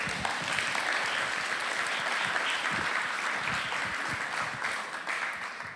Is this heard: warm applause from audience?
yes